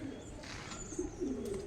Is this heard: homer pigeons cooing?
yes